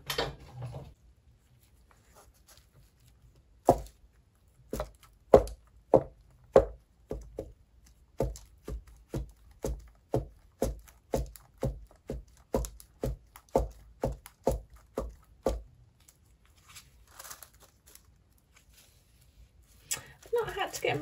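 Jesmonite resin poured into geometric tealight moulds and tapped to release bubbles: about twenty sharp, evenly spaced knocks in a steady rhythm, with speech before and after.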